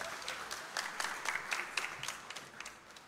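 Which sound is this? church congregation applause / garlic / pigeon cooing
church congregation applause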